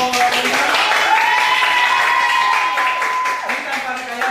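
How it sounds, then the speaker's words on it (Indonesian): A classroom group applauds a student team, a steady wash of clapping over several seconds, with voices calling out over it. "Tepuk tangan buat kelompok 5."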